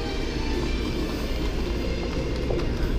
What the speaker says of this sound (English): This is the train we are about to get on to go to Disney Sea.